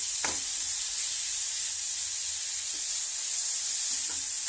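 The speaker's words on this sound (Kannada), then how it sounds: "ಬೀಟ್ರೂಟು ಕ್ಯಾರೆಟ್ ತೆಂಗ ಬೀಜ ಮೇಲೆ ಹಾಕ್ತೀನಿ ರೀ" Beetroot, carrot and coconut hitting a hot pan for carrot beetroot rice, giving a loud, steady close sizzle with a few faint stirring scrapes underneath.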